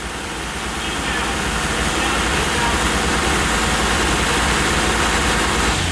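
An HKS crate engine in a Nissan R33 GTR idles high and steady with individual throttle bodies, a loud, constant drone that holds unchanged throughout.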